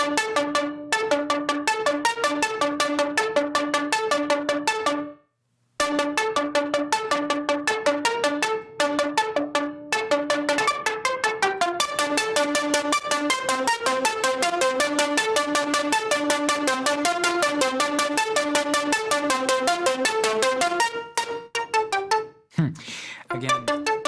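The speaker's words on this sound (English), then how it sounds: "we get into more of a rhythmic synth during the choruses" Rhythmic chorus synth in a Logic Pro pop session, heavily saturated with Decapitator, a bright plucky pattern of rapid repeating notes that runs continuously with a short break early on and another dropout near the end.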